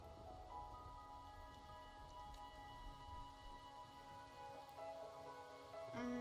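Rain falling in the video game Wuthering Waves, a soft, faint, steady patter with low tonal music or ambience underneath and no speech.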